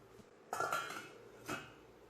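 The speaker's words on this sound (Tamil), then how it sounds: "மூடி போட்டு வேக வச்சிடலாம்." A lid is set onto a cooking pot of cluster beans (kothavarangai), giving two short metallic clatters about a second apart, fairly close and otherwise quiet.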